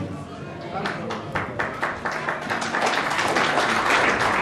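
A church audience at a universal church mission gathering applauds Pastor Franco Nicolas, a run of quick, rhythmic hand claps that thickens into fuller crowd clapping, close and lively.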